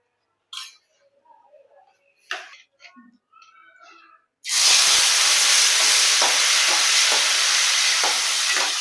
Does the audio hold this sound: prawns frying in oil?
yes